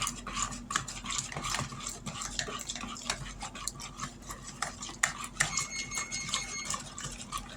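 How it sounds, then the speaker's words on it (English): A spoon stirs a 12-ounce can of evaporated milk into Thanksgiving pie filling, giving soft, irregular scraping and light clinks against the bowl that continue at low volume with no talking. "now we're going to stir in a 12-ounce can of evaporated milk"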